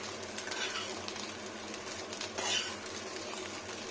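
Fish roe frying in a pan makes a soft, continuous sizzle with intermittent stirring scrapes and light clinks of utensil against pan, close but fairly quiet.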